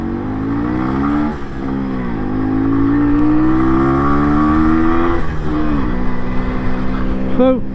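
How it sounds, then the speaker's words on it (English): An MZ TS125 two-stroke motorcycle revs loudly and up close, its buzzing engine note dipping and climbing in pitch as it pulls away from the lights. "There's the old revving it up at the lights."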